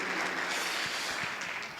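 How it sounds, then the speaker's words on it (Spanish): A church congregation applauds, a dense wash of clapping from many hands that carries steadily and fades slightly toward the end. "¿Qué tal si le brindamos un fuerte aplauso a todos los presentes"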